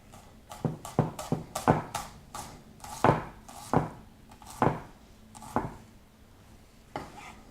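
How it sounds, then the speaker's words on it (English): Knife chopping through fresh ginger on a cutting board while mincing aromatics for grilled wild salmon, a quick burst of sharp close taps followed by slower, spaced single chops, no talking. "Take about 5 grams of ginger as well and mince that."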